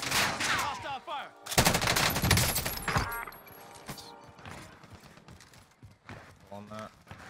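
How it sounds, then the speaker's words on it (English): Hostile gunfire in a Warzone match, scattered shots and short bursts mixed with game effects and footsteps, moderately loud, with a voice talking over parts of it. "Hostile fire!"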